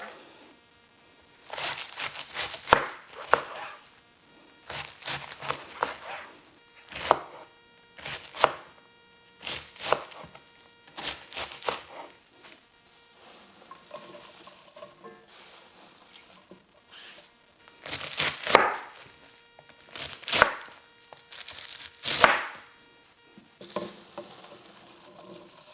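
Half a head of cabbage being cut on a board, bursts of knife chops arriving in clusters with quieter pauses between them, close and fairly crisp.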